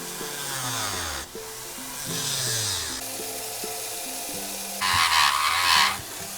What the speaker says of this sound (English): we're just gonna go the safe route and use a Dremel this time